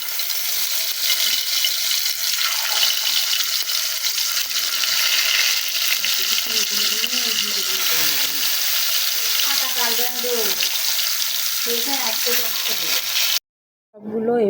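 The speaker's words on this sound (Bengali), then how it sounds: "সবগুলো এভাবে কড়াইতে দিয়ে মানে লাল লাল করে ভেজে দেখো কত সুন্দর কালার এসেছে" Spiced bottle gourd slices, rubbed with chili, salt and turmeric, frying in a wok. A steady broadband sizzle runs throughout, with faint voice-like sounds in the middle, then a brief silence near the end.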